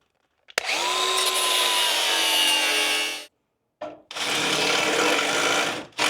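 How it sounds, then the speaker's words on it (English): A power cutting tool slices the brackets off a Nissan S14 front end in two long, loud, steady bursts separated by a short pause, ending with a brief final touch. "Just cut off these brackets and weld them back on."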